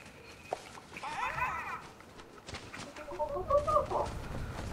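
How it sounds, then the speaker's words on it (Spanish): Chickens clucking in the video game Fortnite, soft scattered clucks and fowl calls at low volume with brief chirpy bursts, set against quiet game ambience. "Tito, mira, mira, una gallina negra."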